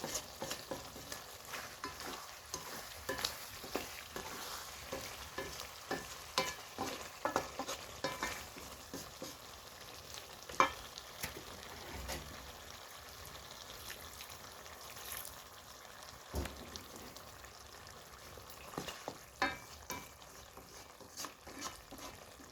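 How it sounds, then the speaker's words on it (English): Beef stew cooking in a pot, a soft continuous simmer and sizzle with scattered light bubbling and occasional stirring clinks, fairly quiet and with no talking. "As you can see, our beef is here cooking well."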